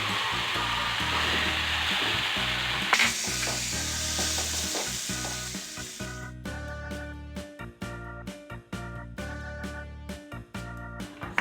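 Vermicelli stir-fried with celery and bean sprouts in a hot pan, a steady loud sizzle with scraping stirs, then a run of sharp regular clacks of the utensil against the pan in the second half.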